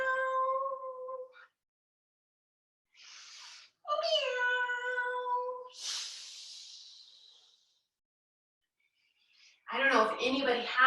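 Children's voices imitate a cat's meowing in drawn-out calls during a kids' yoga cat pose, with pauses between them, followed by a burst of noisy chatter.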